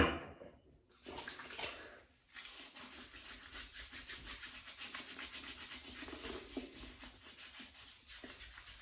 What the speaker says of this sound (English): all I'm going to do is tip this white water up